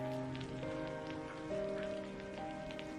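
Rain falls steadily as a soft, even patter in an animated folk story, heard under sustained background music tones, with no voices.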